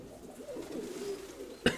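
Pigeons cooing softly in a loft, a low murmuring coo running steadily through the clip, with a brief sharp knock near the end.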